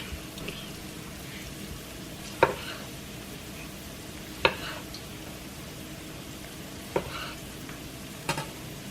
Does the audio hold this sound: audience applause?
no